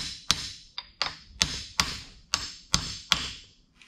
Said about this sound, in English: You can drive on these bearing races